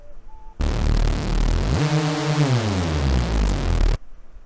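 A raw, buzzy reese synth bass made in Serum plays dry with no effects, steady, gliding upward then back down in pitch, dense and gritty, before stopping sharply.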